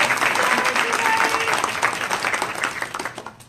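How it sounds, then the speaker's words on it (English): Audience applause for a panel speaker at an interfaith week panel, dense and steady clapping from a crowd that holds strong, then thins and tapers toward the end. "I'd like to ask for a round of applause for Carrie."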